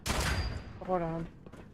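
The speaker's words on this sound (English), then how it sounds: "He's shooting me." Gunfire in Genshin Impact: a dense burst of rapid shots at the start that fades within about half a second, followed by a voice speaking briefly.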